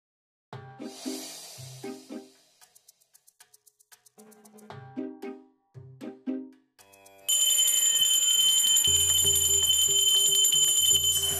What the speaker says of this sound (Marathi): आधी ती घंटा वाजवणं बंद करा।